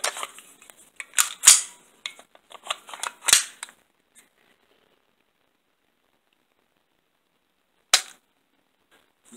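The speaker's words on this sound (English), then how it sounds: "With a magazine loaded with snap caps, the slide does not move." Sig P320 pistol dry-fired with snap caps: a quick run of sharp metallic clicks and snaps in the first few seconds, a silence, then one more isolated click near the end, close and fairly loud.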